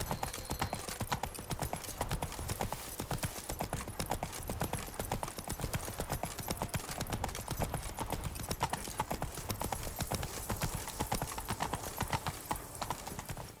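Horse hooves gallop steadily in The Witcher 3: The Wild Hunt remastered on PS5, a fast, dense clip-clop rhythm running loud and continuous throughout, with a brief snort or whinny possible.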